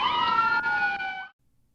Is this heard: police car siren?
yes